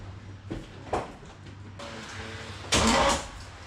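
A 1986 Camaro with a small block Chevy V8 cranking in short bursts, then catching with a louder rough burst near the end; close and mechanical with no talking.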